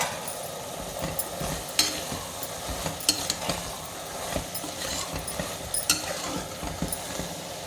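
Chopped coconut frying in a pan with softened tomatoes for a Chettinad curry of black Ayam Cemani chicken, giving a steady close sizzle broken by scraping stirs and light clinks, with no talking.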